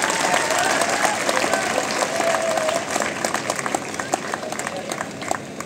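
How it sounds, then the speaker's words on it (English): Audience applauding medalists at a felicitation ceremony at an engineering institute, a dense, steady wash of clapping that fills the whole stretch and thins slightly toward the end. "you did not give a big round of applause. I think that let us do it now"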